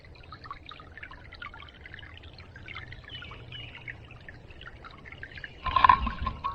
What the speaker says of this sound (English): I'm gonna grab some of that water and wet my head down with it